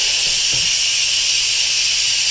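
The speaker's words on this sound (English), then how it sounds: "we turn the steam valve to venting" An Instant Pot steam valve vents pressure in a loud, continuous hiss that holds steady throughout, with a faint low rumble underneath.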